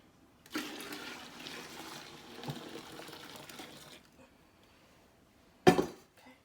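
Warm water pours into a bucket for a homemade laundry detergent mix, a steady broadband splashing rush lasting several seconds, followed by a brief sharp clatter.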